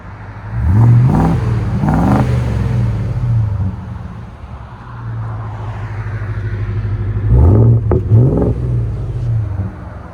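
A 2020-2026 Ford F-250 with the 7.3L Godzilla V8 and Borla exhaust is revved hard twice up close, settles into a deep idle rumble, then is revved twice again.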